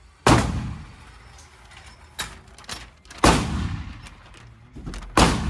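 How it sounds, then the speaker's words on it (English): Three sharp, loud SIG X-Macro pistol shots fired at a target 10 yards away, a few seconds apart, each with a booming echo that fades slowly, plus fainter handling clatter between them. "I did 3 more shots"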